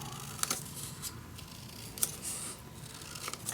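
Soft, close snips and rustles of paper being cut in two for small notebook pages, a few crisp clicks spaced across a quiet background with no speech.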